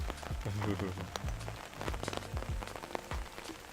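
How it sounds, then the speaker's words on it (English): Rain falls steadily, an irregular patter of drops striking a surface close by, while a person talks over it. "It's raining."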